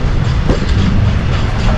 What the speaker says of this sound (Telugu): ట్రైన్ ఇంకా పోతూనే ఉంది పెద్ద ట్రైన్ ఉంది ఇది